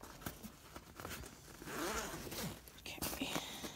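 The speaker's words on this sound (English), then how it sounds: "wherever that zipper is" A backpack zipper is pulled open in short, close rasping strokes, one longer pull in the middle, amid faint whispering.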